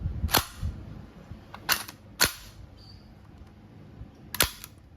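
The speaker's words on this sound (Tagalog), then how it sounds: "testing tayo mga boss. Crossman R1." A Crosman R1 semi- and full-automatic airgun rifle fires a few sharp, close cracks spaced irregularly, with a faint metallic click between shots.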